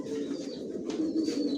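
A young black checker Johnson Maxi racing homing pigeon gives soft, continuous low cooing, close but quiet, with no talk over it.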